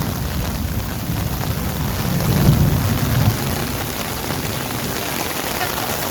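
Thunder from a summer storm rolls in as a low, swelling rumble under steady rain. The loud hiss of rain runs throughout, and the thunder builds and fades over a couple of seconds.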